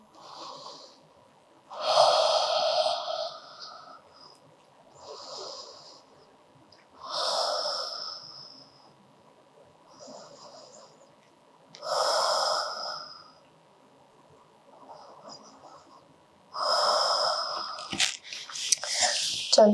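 Slow, deep yoga breaths during a beginner stretching session, drawn in and released in about four long cycles, each a soft, close airy whoosh with quiet pauses between.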